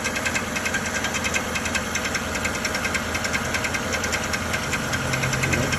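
Chevrolet Silverado (2002-2014) engine with an odd knocking noise, a steady fast ticking knock riding over a continuous idle hum, close and even throughout.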